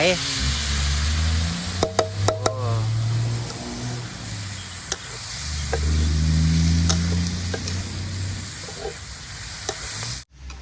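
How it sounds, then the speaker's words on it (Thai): Sizzling and scraping of eel being stir-fried in a hot wok at a roadside, with utensil clatter and a voice talking over it, traffic noise nearby. "ผัดกันอยู่ริมถนนก็จะเสียงดังหน่อย"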